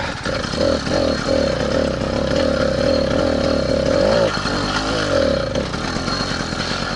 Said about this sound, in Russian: Газ добавляю, глохнет.